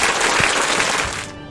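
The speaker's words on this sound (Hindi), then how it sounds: "ताली मारो।" Brief burst of dense crowd applause, loud and continuous, tapering off abruptly at the end.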